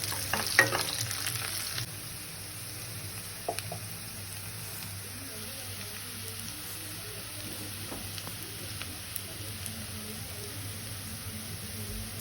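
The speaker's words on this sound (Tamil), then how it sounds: "இது கூட 2 காஞ்ச மிளகா, ஒரு கொத்து கருவேப்பிலை எல்லாம் சேர்த்து நல்லா வதக்கிக்கோங்க." Dried red chillies and curry leaves sauteing with onions in a pan for restaurant-style masala dal, giving a steady low sizzle and frying hiss throughout, with a few brief stirring clinks near the start and no talk.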